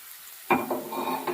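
Cut brinjal added to potatoes frying in oil with turmeric and salt in a pan, a sudden sizzling hiss followed by scraping stirs of a spatula, close and brief.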